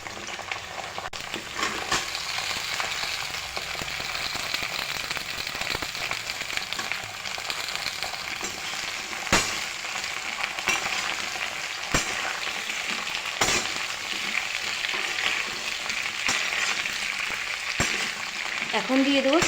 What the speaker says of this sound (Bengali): আলুগুলো হালকা ভেজে নিয়েছি, এখন দিয়ে দেব কেটে রাখা সিম আর বেগুন।